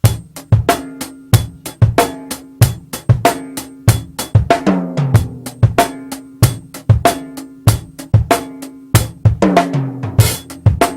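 A drum kit plays a fast bass-drum counting pattern, sharp repeated hits in a steady driving rhythm with ringing drum and cymbal tones, loud and close with no voices.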